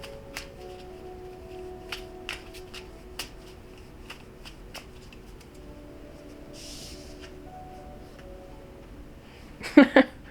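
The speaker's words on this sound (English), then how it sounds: "I love this little deck. It's hard to shuffle" A Sovereign Tarot card deck is shuffled by hand in short, crisp riffles and taps spread across the clip, ending in a louder burst of flicking cards, quiet and close.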